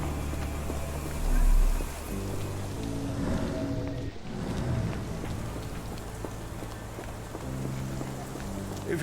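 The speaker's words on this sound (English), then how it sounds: "This dreary rain is making a miserable day even worse" Steady rain pours throughout a rainy street scene in the game Sherlock Holmes: The Awakened, a dense, close hiss of drops over low rumbling and a brief deeper swell.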